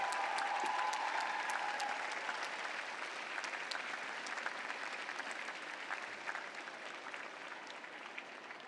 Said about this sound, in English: Give your loved ones a round of applause.